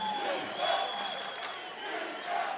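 A stadium crowd cheers and roars at a women's American football game between Western Australia and New South Wales, a broad, sustained swell of distant voices with a commentator's talk over it.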